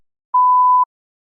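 A single clean electronic beep, steady in pitch and lasting about half a second, sounds alone against silence.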